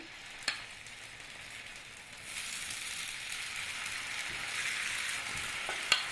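Spoonfuls of vegan fritter batter frying in oil in a pan, a soft steady sizzle that swells louder partway through, with a couple of faint utensil taps and no talking.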